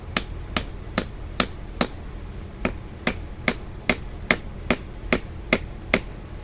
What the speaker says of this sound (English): I use my dead blow hammer and hold on to the pipe and pound it on in